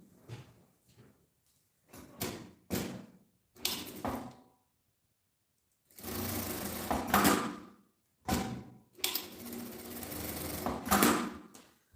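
A sewing machine stitches folded fabric in several short bursts, then longer whirring runs, with silent pauses between each run and no voices.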